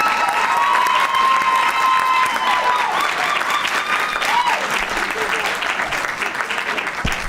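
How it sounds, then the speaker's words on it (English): An audience at a school board meeting breaks into loud, sustained clapping, with scattered cheers and whoops over the dense patter and voices murmuring underneath as it gradually fades. "you can clap"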